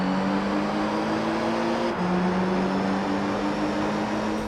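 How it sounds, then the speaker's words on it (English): Car engine sound from the racing video game Gran Turismo 3, a steady sustained hum with a slight pitch shift midway, droning continuously without any talk. "For GT3, all of the engine sounds were redone."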